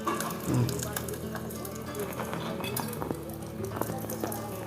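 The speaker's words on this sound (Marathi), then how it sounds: "हलवून बघते भाजी शिजले का" Vegetables fry steadily in a pan on a small village cookstove while being stirred, a continuous close sizzle with occasional light clinks of the utensil, and a voice talks over it.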